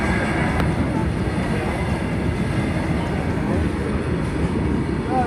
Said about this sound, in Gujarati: તો મિત્રો રેલવે આવી છે,